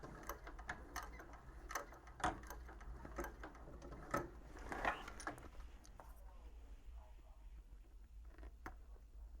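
A sewing machine stitches a bag's top seam and backstitches, its quiet rapid needle ticks running in a few short bursts before tapering off, faint and close.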